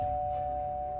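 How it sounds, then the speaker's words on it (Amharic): A doorbell rings at a house door, one sustained electronic chime tone that holds steadily at moderate volume over a quiet room, with no voices. "የበሩ ደውል ይጮኻል።"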